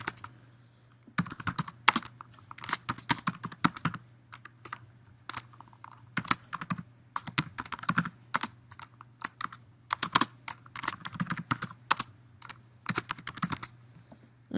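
Steady computer keyboard typing with rapid irregular clicks in bursts and brief pauses, close and clear over a faint low hum.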